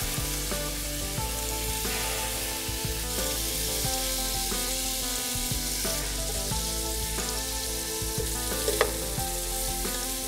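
Butter sizzles steadily in a pan as brochettes cook, an even, continuous frying crackle that stays loud and close throughout.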